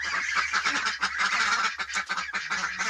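A voice imitates a duck with a rapid string of nasal honking quacks, loud and close, with no talking, amid young roosters fighting.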